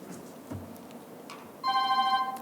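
A telephone rings with a bright electronic warble, breaking in abruptly near the end and repeating steadily at moderate loudness over low room hum during a planning commission meeting.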